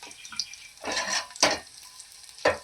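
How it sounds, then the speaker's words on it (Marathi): Curry leaves go into garlic frying in hot oil for kala vatana usal, setting off bursts of spattering sizzle. Three or four loud crackling flares rise and fade over a steady low frying hiss, close by. "असा छान गुलाबी झाला की त्यावर आपण कढीपत्ता टाकून घेणार आहोत"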